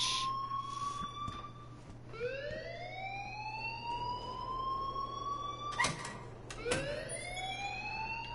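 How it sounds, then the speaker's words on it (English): An electronic alarm in the video game Life is Strange wails in rising, repeating sweeps, each tone climbing then cutting off, over a steady low hum. It is moderately loud and heard without voices. "please turn off that alarm since that's your job"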